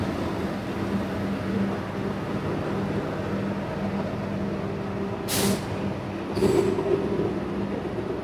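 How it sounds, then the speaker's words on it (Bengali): Station ambience on the Shimla–Kalka toy train line at Shimla railway station, with a steady low rumble of an idling train and two short hissing bursts of air released from the brakes partway through. "এটাই হচ্ছে 3:50 ট্রেন, এখান থেকে কালকা যাবে।"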